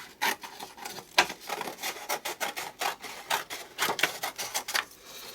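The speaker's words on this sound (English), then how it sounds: "let's cut the paper in half" Paper being cut in half for an art journal page, a series of short rasping snips and rubs with an irregular rhythm, close and fairly clear with no talk.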